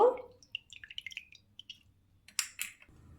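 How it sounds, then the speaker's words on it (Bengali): Tamarind pulp is pressed through a strainer into a kadai, a run of small wet squelches and drips, then a couple of louder metallic scrapes of a spoon, close and quiet. "তেঁতুলের পালটা আমি ছেঁকে নিচ্ছি কড়ার মধ্যে"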